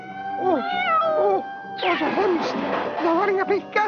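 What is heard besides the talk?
cat meowing in a cartoon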